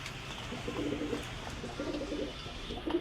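Soft, low pigeon cooing in repeated rolling bursts, fairly faint against a quiet background hiss.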